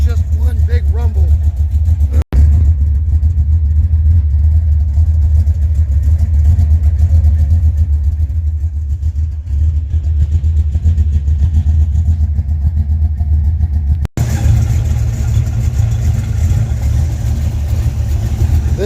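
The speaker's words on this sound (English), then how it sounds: "I lowered the idle quite a bit to get a little more cam chop." A modified car engine with a lowered idle, idling loudly as a deep, steady rumble with a slight cam lope. It runs continuously for the whole stretch with two brief cutouts.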